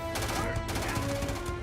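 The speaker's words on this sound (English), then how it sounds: "Firing a ballistic weapon in zero-G will actually push you backwards." A ballistic weapon firing in zero gravity in the video game Starfield: two sharp gunshot bursts close together, each with a ringing decay over a dense, loud mix.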